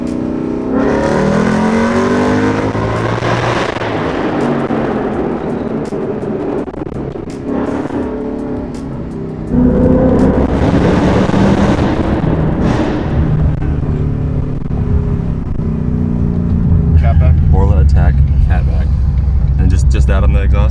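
A Ford Mustang 5.0 V8 engine rumbles and revs loudly close by, with deep exhaust growl swelling as it accelerates while people talk over it.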